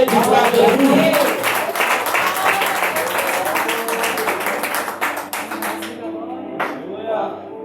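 A church congregation clapping together during a worship service: rapid, steady hand claps over singing and voices, loud and close, before the clapping thins out and stops near the end.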